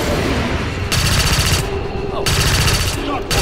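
Loud automatic gunfire from the video game XCOM 2 comes in sustained bursts, with brief pauses between long strings of rapid shots that fill the soundscape.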